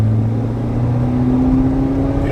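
Haval H9 seven-seater 4x4 SUV engine running while driving, a steady low drone with a constant tonal hum and road noise, heard from inside the cabin with no talking.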